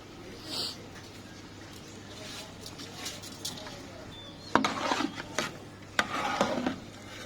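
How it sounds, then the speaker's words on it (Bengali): Rinsed, soaked rice being stirred and mixed in a pot for Bengali khichuri, giving soft scraping and rubbing strokes that grow louder and more frequent toward the end, with quiet kitchen background throughout. "এরপর একটু নাড়াচাড়া করে একটু মিক্স করে দিলাম।"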